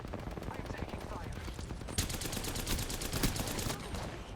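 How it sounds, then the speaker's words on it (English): Rapid automatic gunfire in the battle-royale shooter Apex Legends crackles in dense bursts, growing louder and sharper partway through, with faint voice chatter mixed underneath. "I'm taking fire."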